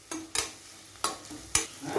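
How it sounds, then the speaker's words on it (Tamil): Green chilies sauté with onions in a pan, a low sizzle punctuated by four sharp scraping stirs of a spatula at uneven intervals, close and fairly quiet. "பச்சை மிளகாயும் நல்லா வதங்கி வரட்டும்."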